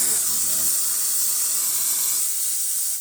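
A Profitec espresso machine steam wand hisses steadily and loudly, a bright continuous airy rush that holds for the whole stretch and tapers slightly at the end.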